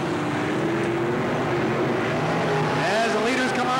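Sprint cars at Riverside Speedway roar around the oval in a sustained, loud engine drone, pitch rising and sweeping as cars pass close, with an announcer's voice over the racing.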